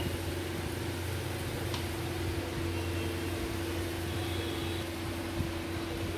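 Taler bora, palm fritters, fry in hot oil with a steady, even sizzling hiss close by, no talking over it.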